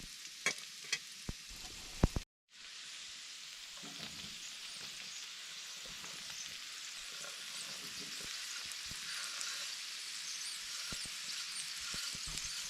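Potatoes frying in a lidded pan at a cold forest campsite, a few clanks as they go in, then a steady, close sizzle that holds evenly and grows slightly louder, with no talking.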